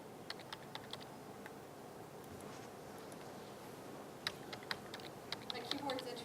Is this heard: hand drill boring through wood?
no